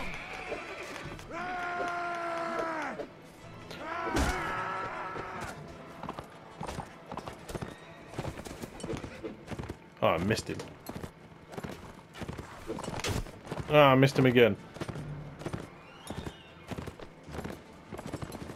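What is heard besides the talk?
horses galloping in video game Mount & Blade: Warband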